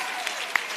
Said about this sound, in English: can we just give a round of applause to the wonderful panel that was here?